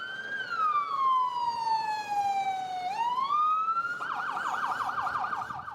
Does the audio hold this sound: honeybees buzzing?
no